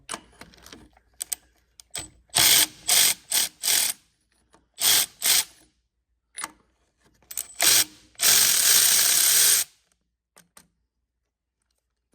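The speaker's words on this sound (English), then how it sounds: "Pull them spark plugs out." A ratchet wrench loosens spark plugs on a tractor engine, with short bursts of rapid clicking spread across the clip and one longer ratcheting run near the end, close by and with no talking.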